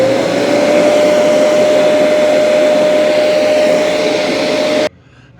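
A Dreame X40 Master robot vacuum dock auto-emptying dust, a loud, steady suction roar with a whining tone that holds for about five seconds and then cuts off abruptly.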